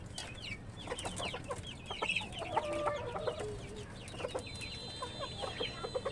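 Desi chickens, including a rooster, cluck and chatter nearby in a busy farmyard, with short clucks and a few higher calls over faint background noise.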